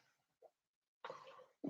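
A child coughs at home: a faint short cough, then a louder harsh burst lasting about half a second, followed by the start of another cough, with quiet in between.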